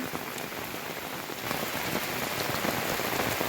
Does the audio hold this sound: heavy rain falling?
yes